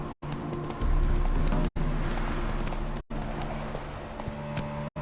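Hooves pound in a rapid, rhythmic clip-clop as the horse Roach gallops in The Witcher 3, close and continuous, broken by a few abrupt cuts to silence.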